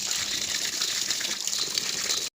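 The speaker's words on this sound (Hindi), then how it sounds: "अब मैं फूलों में पानी डालता हूँ, वो भी पाइप से।" Water gushes steadily from a garden hose pipe onto flowers outdoors, a loud, continuous hissing spray that runs without a break and then cuts off abruptly at the end.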